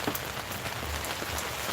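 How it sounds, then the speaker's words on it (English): Steady rain falling outdoors, a soft dense patter of drops on surfaces at moderate distance, continuous and fairly quiet throughout, with no voices. "So the rain finally came back."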